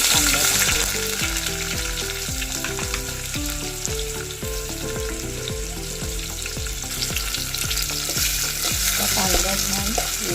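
Chopped onion frying in hot oil in a pot for a chicken curry, a loud, continuous sizzle with bright crackling and the steady scrape of stirring throughout.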